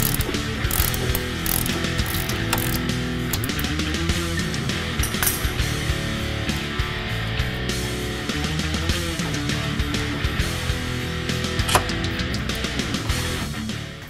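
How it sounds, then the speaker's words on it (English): Rapid ratchet clicking from a wrench turning the 17 mm nut on a sway bar end link of a 2015-2020 Mustang during a coil-over install, a dense continuous run of metallic clicks lasting throughout, close and loud, with no speech. "First thing you want to do is remove the sway bar end link. It's a 17 millimeter nut on the back"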